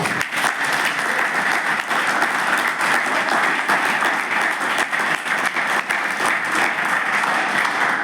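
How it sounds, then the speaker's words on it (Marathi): Steady, dense applause from an audience at a guest lecture at an IAS coaching institute in Amravati, sustained for the whole stretch with no pauses and no voices over it. "सर यांच्यासाठी एक जोरदार टाळ्या होऊन"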